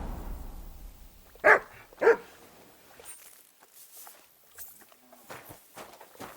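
A dog in Kingdom Come: Deliverance 2 gives two short, close barks in quick succession, followed by quieter footsteps and soft rustling.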